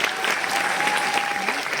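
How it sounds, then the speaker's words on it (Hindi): Brief burst of audience applause from a gathered crowd, a steady, even wash of clapping lasting just under two seconds with no break. "जोरदार ताली होनी चाहिए 2 लाख रुपए के लिए।"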